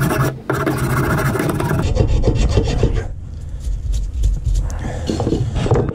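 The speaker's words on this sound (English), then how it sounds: "you're going to take your file and you're just going to start getting rid of all that rust." A metal hand file rasps steadily back and forth across a rusty automotive brake caliper during servicing, a close, continuous scraping that eases briefly about halfway through before resuming.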